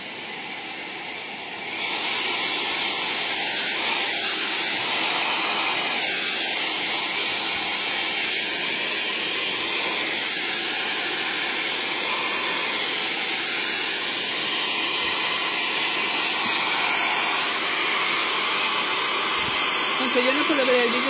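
A hair dryer runs steadily for about twenty seconds after starting, a loud continuous blowing hiss that stays near and constant, with faint voices in the background.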